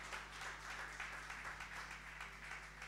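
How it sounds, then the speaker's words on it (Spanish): A church congregation claps together in sustained, steady applause that fills the room, with faint voices mixed in underneath. "¿Cuántos le dan un aplauso al Señor?"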